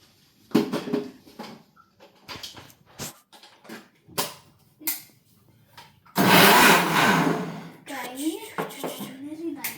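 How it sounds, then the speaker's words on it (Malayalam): A mixer grinder jar whirs loudly as it blends mango ice-cream ingredients with no water added. The dense burst starts after a stretch of talking, runs for a few seconds, then eases as speech resumes over it. "എല്ലാം മിക്സി ജാറിൽ ഇട്ട് കൊടുത്തിട്ടുണ്ട് കേട്ടോ നമുക്ക് ഇതൊന്ന് ബ്ലെൻഡ് ചെയ്തെടുക്കണം"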